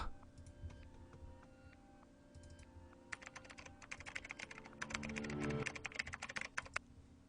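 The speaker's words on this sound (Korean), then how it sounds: "재빨리 키보드를 조작했다" Rapid keyboard typing, clicking in quick irregular bursts that grow denser and louder, over a soft steady hum.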